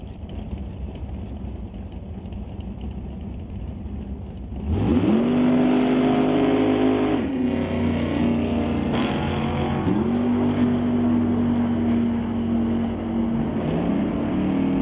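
A 1972 Plymouth and a Mustang launch in a drag race, engines roaring loud and steady from about five seconds on, with rising and falling revs as they accelerate down the strip over a constant crowd-and-engine din.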